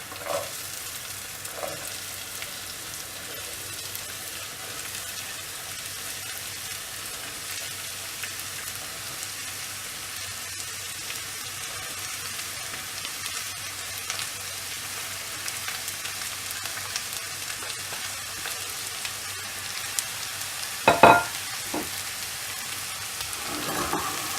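Grated radish sautéing in a pan for a radish and egg stir-fry, a steady close sizzle running the whole way with a few sharp scraping clinks of a spoon against the pan near the end.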